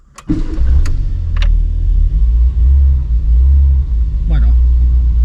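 A 1991 Ford Fiesta RS Turbo starts up close by and settles into a loud, deep, steady idle rumble, with a few brief clicks and knocks from the car's interior.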